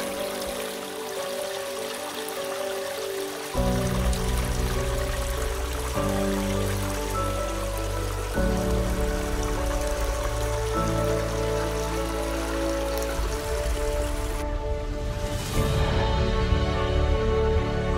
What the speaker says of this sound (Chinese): 本来的路都变成潺潺小溪了